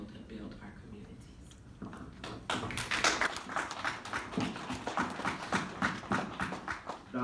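An audience at Black Expo 2018 in Indianapolis breaks into clapping after about two seconds of quieter room sound. The hand claps then carry on in a moderate, uneven patter to the end.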